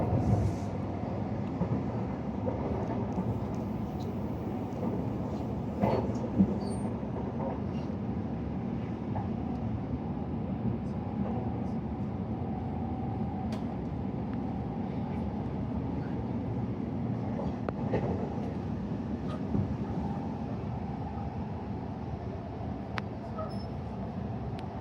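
A steady low rumble inside a full, crowded train carriage in motion, continuous and droning, with faint rattles and muffled background chatter.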